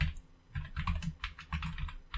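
Fingers type a curl command on a computer keyboard, a close run of quick, uneven key clicks in short bursts with brief pauses, no one speaking.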